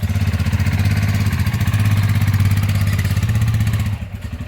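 Motorcycle engine pulling steadily uphill in fifth gear, a loud close throbbing exhaust note held for about four seconds before easing off slightly at the end; Honda CB 350 or Royal Enfield Himalayan.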